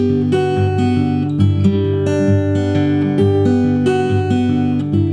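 A guitar plays a verse, clear plucked notes ringing over sustained low strings in a steady picked pattern, close and alone.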